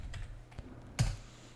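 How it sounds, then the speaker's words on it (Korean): Typing a command on a computer keyboard in a Windows command prompt, a few quiet, sparse key clicks with one sharper keystroke near the end, close but faint over a low background hum. "이 명령 프롬프트 윈도우에서 여러분께서 이제 타이핑을 자바 한 칸 띄고"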